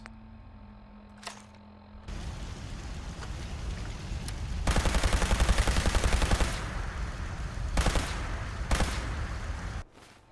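Weapon fire in the video game Fallout 4 comes as a rapid, loud burst of shots followed by a few shorter volleys, set against game ambience with clicks before the shooting starts.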